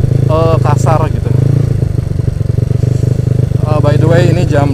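A motorcycle engine revs with a steady, buzzing drone while drifting on a dirt track on a hot afternoon. It sounds close and loud, with someone talking over it throughout.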